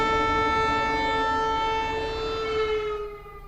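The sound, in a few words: air raid sirens in Lublin, Poland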